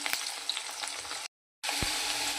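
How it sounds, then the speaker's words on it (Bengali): Potatoes fry in hot oil with a steady, close sizzle that cuts out completely for a brief moment midway, then resumes just as loud. "আলুটা আমার ভাজা হয়ে গেছে"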